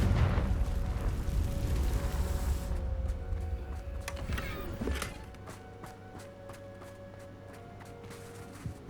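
A rumbling fiery blast from the Confringo fire spell in Hogwarts Legacy, loud and low at first, then breaking into crackling pops and scattered bursts before fading to a quieter tail.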